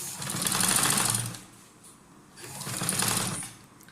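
A sewing machine stitches a folded paper-strip hem in two steady whirring bursts, each about a second and a half long, separated by a short pause.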